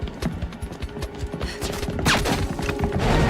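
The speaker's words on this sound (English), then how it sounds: "He suddenly opens fire, confirming his corruption." Gunfire in a Steven Seagal action film scene as a corrupt officer suddenly opens fire: a rapid burst of sharp, close shots in uneven rhythm that swells louder toward the end, with no talk.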